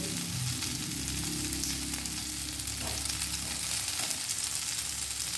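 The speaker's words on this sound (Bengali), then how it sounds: "টুকরো করে ফ্রাই প্যানের মধ্যে দিয়ে দিচ্ছি।" Potato pieces fry in hot oil in a frying pan for a spiced potato dish, giving a steady, close, dense sizzle that runs unbroken the whole time with no talking.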